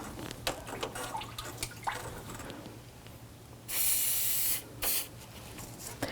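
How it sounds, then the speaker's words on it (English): Rust penetrant sprays from an aerosol can onto the pulley bolts of a 1984-2001 Jeep Cherokee, two distinct hissing bursts, the first about a second long and the second shorter, close up after quiet handling noises. "So I sprayed it, get that rust loosened up a little bit."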